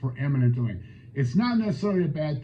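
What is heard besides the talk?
No everyday noise stands out behind the speech.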